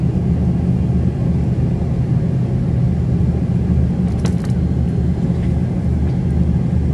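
An Edelweiss Air airliner taxis toward the runway at Rhodes ahead of a delayed takeoff for Zurich, a steady broad cabin rumble of engines and rolling wheels heard from inside, with a few faint clicks partway through.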